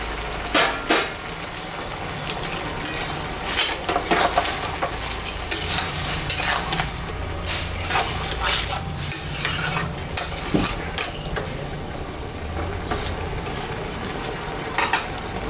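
Fish head and shrimp are stirred with taro stolons in a sizzling pan, a steady close frying hiss under repeated scraping strokes of a utensil against the pan.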